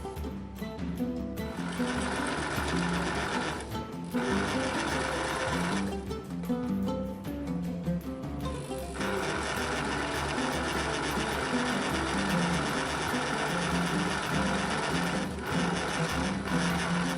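A sewing machine stitches a fabric belly dancer face mask, running in a fast, steady mechanical whir with a few brief pauses and restarts, close and alone.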